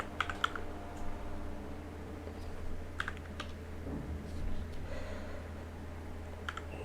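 Close, fairly quiet typing on a computer keyboard while entering a function in AppSheet, in scattered bursts of clicking keys over a low steady hum.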